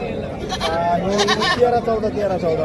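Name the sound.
goats bleating at a goat market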